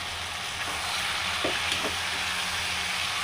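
Prawn mash with salt, coriander and turmeric powder stirred in a frying pan: a continuous bright sizzling hiss with a few soft scraping strokes of the spoon in the middle, fairly quiet and without voices.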